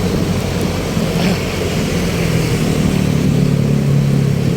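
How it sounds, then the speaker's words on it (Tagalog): Strong wind roars steadily on an open city street in Manila, a constant broadband rush with low rumbling gusts and faint traffic beneath it, loud and close with no pauses. "Ay malakas ang hangin"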